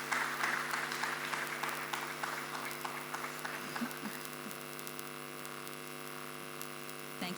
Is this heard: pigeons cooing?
no